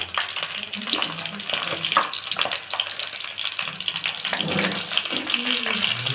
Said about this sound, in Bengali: আলুটা আপনারা কেমনভাবে ভাজবেন। ঠিক এইভাবে ভাজবেন।